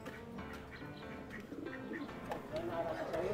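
Racing pigeons coo softly amid a noisy loft or release area, with shouting voices and background chatter throughout, several short calls rising and falling.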